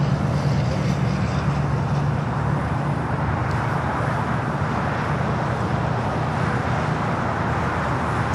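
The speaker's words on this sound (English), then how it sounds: "we got that American Dreamliner heading to Tokyo Haneda. Now started its roll down to 25 right here on the south" An American Boeing 787 Dreamliner starting its takeoff roll on runway 25 at LAX, a steady broad jet roar with low rumble, continuous and moderately distant, with no talking.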